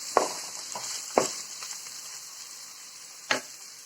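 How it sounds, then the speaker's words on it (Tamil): Garlic fries in a pan for a spice powder, a soft steady sizzle broken by three sharp scrapes as it is stirred now and then. "நல்லா பொறிச்சு எடுக்கணும் இடையில இடையில கிண்டி விட்டுக்கணும்"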